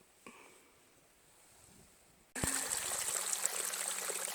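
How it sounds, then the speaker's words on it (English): A stream flows beside a hiking trail in Tooele, Utah. Faint trickling runs at first, then the water swells to a louder, continuous rushing splash that sounds close by. "There's this pretty water we've been walking by."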